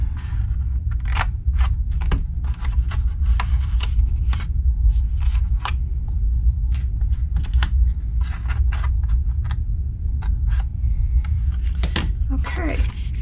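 Scissors cut through cardstock in a run of crisp, close snips at an uneven rhythm, with a low steady hum underneath the cutting.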